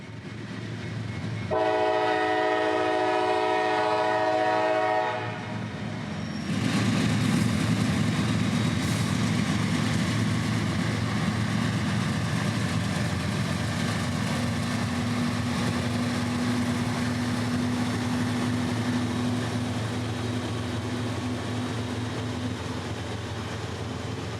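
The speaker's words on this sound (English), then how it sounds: "CSX 7029, a rebuilt AC44, but still with a classic K5LA horn and a fast steel bell from the 90s" A CSX 7029 rebuilt AC44 locomotive with a K5LA horn sounds one long, loud, chorded blast. Its engine then roars close by, followed by a sustained rumble of rolling freight cars.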